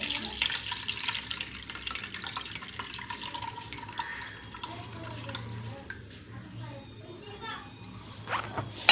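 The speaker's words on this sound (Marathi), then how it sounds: "तुम्ही बघू शकता पोहा हा पाण्यामध्ये व्यवस्थित असा धुवून घेतला जात आहे" Water sloshing and dripping as poha (flattened rice) is rinsed by hand in a bowl, with soft splashes and a faint background voice.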